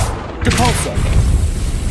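The Depulso force-push spell in the wizarding game Hogwarts Legacy, a sudden punchy blast with a ringing, warbling tail, then a second softer impact under a steady low rumble.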